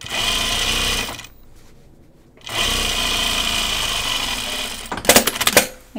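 A sewing machine stitches a straight quarter-inch seam in two long, steady, loud runs separated by a quiet pause, ending with a few quick stop-start bursts and clicks.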